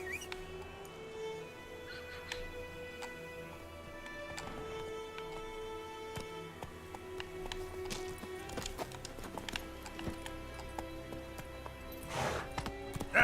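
In The Witcher 3, Geralt's horse Roach gallops with a rapid, fairly faint clip-clop of hooves over a busy game soundscape of music and effects.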